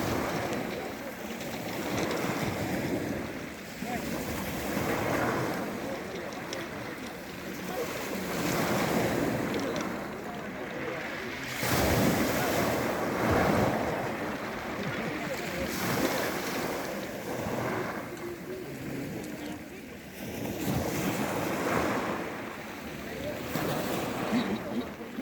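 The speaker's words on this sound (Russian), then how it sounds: "Сегодня море штормит." Stormy Black Sea surf pounds the beach at Imeretinka in a continuous, loud roar of breaking waves, with heavy wind buffeting the microphone throughout.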